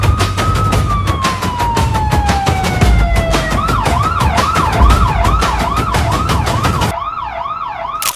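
Police car sirens in an animated bank robbery chase, a loud wailing tone that drops and then shifts into a fast yelp cycle over rapid rhythmic pulsing and vehicle rumble, ending on the siren alone.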